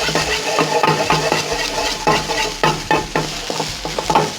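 Rice being stirred in a hot pan, a spoon scraping repeatedly with a steady sizzle of frying underneath, the strokes coming in an uneven rhythm, close and fairly loud with no talk.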